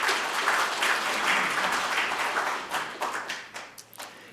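An audience at a Buddhist spring service held at the Korean National Assembly breaks into applause, with sustained full clapping that tapers into a few scattered, separate claps.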